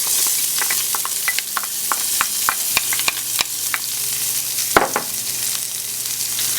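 Shallots sizzling in a hot pan for a bleu cheese sauce, a steady hiss broken by sharp clicks and taps of a utensil stirring, one louder clatter near the end, close and alone.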